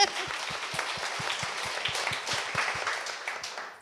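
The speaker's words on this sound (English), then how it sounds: "That deserves a clap" Steady applause from a panel-discussion audience, with one nearby pair of hands clapping in a clear, regular rhythm above the softer, fading crowd clapping.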